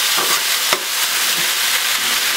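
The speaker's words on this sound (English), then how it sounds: "we will now stir this around a little bit here" Crushed red peppers stirred around in a hot frying pan for chicken cacciatore, a steady loud sizzle with soft scraping strokes of the spoon and one brief clack against the pan.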